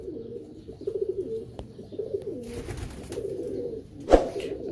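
Pigeons coo in a dome-shaped loft, soft low rolling calls repeating close by in several phrases, with a sharp knock near the end.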